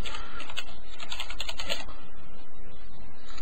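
Rapid bursts of keystrokes on a computer keyboard as a layer name is typed, close and fairly loud, with clicks clustered in the first two seconds and then trailing off into quieter room noise.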